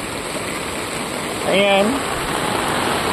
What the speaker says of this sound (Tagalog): Ano lang to, ordinaryong ulan.